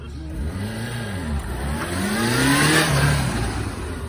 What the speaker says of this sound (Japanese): 先ほどと違ってエンジンの音がそもそも変わりました。